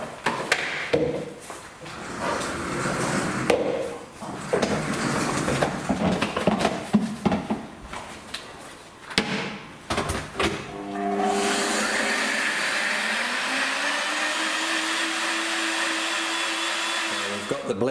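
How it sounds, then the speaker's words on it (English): A blender whirs through a blueberry and oat pudding mix, a steady loud motor drone with rising pitch as the contents smooth out, preceded by clattering and handling noises. "from there we'll go over and blend this up"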